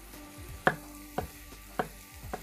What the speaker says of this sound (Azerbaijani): Göbələyi də doğrayacağım.